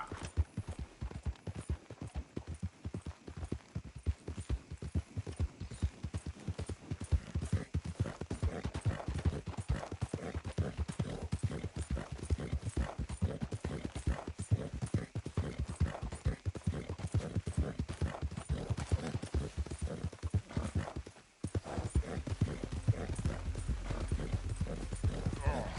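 Horse hooves clip-clop in a steady rapid rhythm in the Western video game Red Dead Redemption, continuing for the whole stretch, with character voices talking over the hoofbeats.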